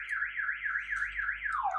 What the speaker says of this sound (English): There's an alarm. You can probably hear it.